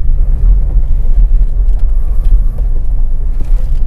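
A Maruti Suzuki Wagon R LXi 1.0 CNG car drives over a bumpy road, giving a steady, loud low rumble of engine and road noise heard from inside the cabin, with no talking.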